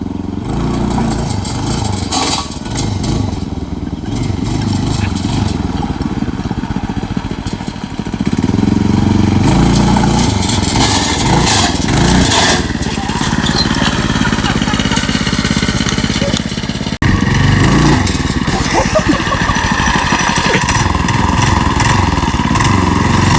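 A homemade budget-built wheelie trike with its small engine running, chugging and revving up and down in bursts, loud and close, with voices talking over it.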